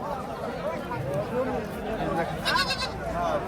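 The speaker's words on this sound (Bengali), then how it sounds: "দুই বাচ্চা সহ একটা বড় ছাগল হ্যাঁ" Goats bleat in wavering cries amid the chatter and babble of a busy livestock market in Natore, including a large eight-toothed goat with two young kids; the bleats rise over constant crowd talk.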